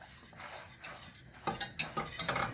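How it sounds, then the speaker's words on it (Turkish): A thickening potato porridge (küme) is stirred in a pot. Faint scraping strokes come first, then a run of sharper, louder knocks and scrapes as the spoon drags through the stiff mixture. No one speaks. "Ben karıştırırken biraz zorlanıyorum"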